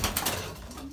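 Belgian racing pigeons in a breeding loft give a brief low coo, soft and close, with no speech.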